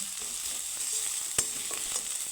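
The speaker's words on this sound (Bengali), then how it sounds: "আমি একটু হালকা ভেজে নেব" Soft, steady sizzling of ginger frying lightly in a pan, quiet and continuous, with one small sharp click partway through.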